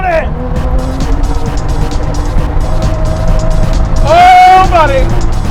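Porsche 911 converted into a trophy truck, its engine revving and rising in pitch as it accelerates hard near the end, following a droning run with tire noise, and someone talking over it.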